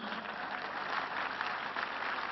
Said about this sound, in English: Church, help me clap for them.